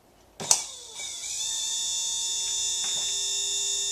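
An electric motor with high torque starts with a sharp click, quickly spins up and settles into a steady, high-pitched whine that holds evenly to the end.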